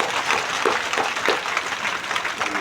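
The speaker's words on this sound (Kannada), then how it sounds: "ಎಲ್ಲರೂ ಕೈ ಎತ್ತಿ ಜೋರಾಗಿ ಮಾಳಿಂಗರಾಯಿ ಚಪ್ಪಾಳೆ." A gathered audience at a devotional satsang claps together in a moderate, fairly rhythmic burst, with some individual claps standing out from the group.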